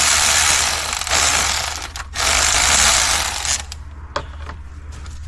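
Valve cover bolts on a Kia Soul engine being loosened, a loud steady mechanical ratcheting whir running for several seconds, then trailing off into a few quieter clicks.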